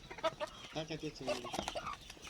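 A rooster and four-month-old chickens cluck softly in short, irregular bursts, quiet and close, with a few brief tonal calls running together.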